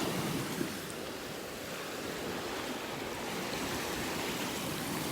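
Ocean waves wash steadily onto a beach in North Naples, Florida, a continuous broad surf roar close by with some wind rumble on the microphone.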